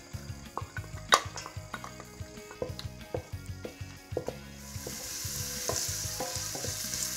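Finely chopped onions frying in olive oil in a cast-iron pot, a steady stream of close clinks and stirring scrapes over a sizzle that swells into a louder hiss near the end, with no talk.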